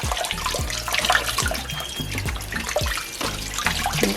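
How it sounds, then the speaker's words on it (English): Tap water runs steadily and fairly close while smoked kuta fish is scrubbed under it, with a continuous splashing rush and irregular knocks of handling against the sink, no talk. "wash, scrub these edges under running water"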